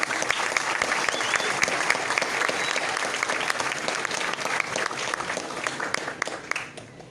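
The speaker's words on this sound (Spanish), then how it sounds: "Démosle nuevamente un aplauso al economista Marcelo Varela." An audience at an economics panel discussion applauds economist Marcelo Varela, a thick steady patter of many hands clapping that tapers slightly at the end.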